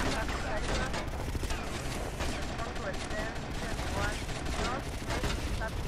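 Video game gunfire from GTA Vice City Definitive Edition, dense and continuous rapid shots with a rattling, fusillade-like texture across the whole stretch, loud and busy, with a voice also present.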